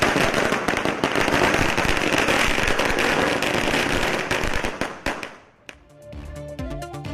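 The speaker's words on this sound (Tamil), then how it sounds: "பட்டாசு வெடித்து இனிப்பு வழங்கி வழக்கறிஞருக்கு மாலை அணிவித்து மகிழ்ச்சி" Firecrackers burst in celebration after a court verdict in a murder case, a dense, loud rapid string of cracks for about five seconds, then it stops and a few scattered pops and crowd noise follow.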